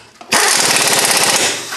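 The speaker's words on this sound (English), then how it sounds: "I'm going to run them in first with the guns, just quicker" Close, loud impact gun rattles continuously as it runs wheel lug nuts onto a 2016 Kia Sorento during a front brake job, a rapid hammering burst lasting about a second and a half.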